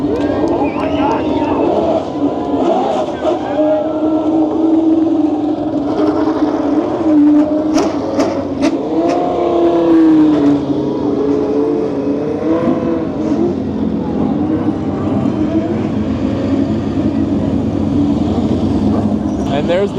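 A Ford GT40 Roadster race car at Road America, its engine droning steadily and swelling slightly as it passes, heard with crowd noise and people talking nearby.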